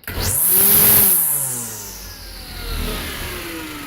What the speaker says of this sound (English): So when you fire up the weed eater, you hear the motor start on that.